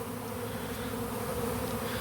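A honey bee swarm buzzes steadily and densely, close by and loud, a continuous droning hum with no voices.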